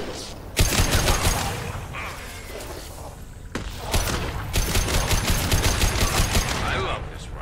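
Rapid rifle fire in Mass Effect 2, loud, dense bursts of shots with mechanical clatter, broken by a brief pause before a second long volley.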